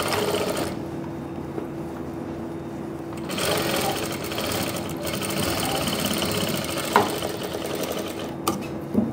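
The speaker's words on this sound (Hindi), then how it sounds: "ये लगा दी मैंने सिलाई" Sewing machine stitching a neckline binding strip, a continuous close mechanical whir and rattle that carries on through the whole stretch with slight changes in pace.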